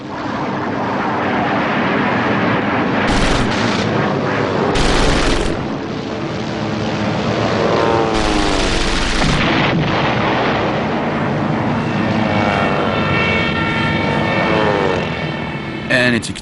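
Fighter aircraft engines roar and drone with bursts of machine gun fire during a WWII bombing raid over Germany, loud and sustained, with intermittent sharp blasts under a narrating voice.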